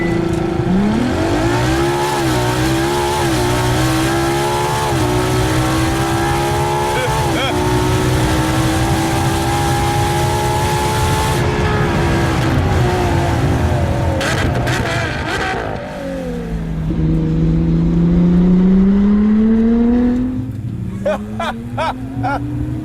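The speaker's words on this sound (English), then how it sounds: "Here's how you do a launch control run in a Ferrari LaFerrari." A 2015 Ferrari LaFerrari at a full-throttle launch-control start roars loud and close, its engine note climbing steadily through the gears, dipping briefly at a shift, then rising again before easing off near the end.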